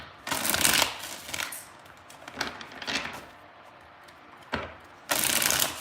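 A deck of tarot cards is shuffled in several separate bursts of crisp riffling, close and fairly loud, with quiet pauses between each shuffle.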